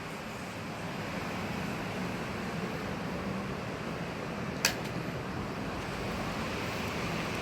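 Steady broadband whoosh of an electric fan running in a small guest room on Langkawi, a constant airy hiss with no talk and a brief faint click midway.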